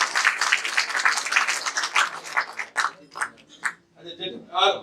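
Applause greets guests at a product training seminar, starting as a burst of clapping that thins out after a few seconds as scattered claps and voices take over.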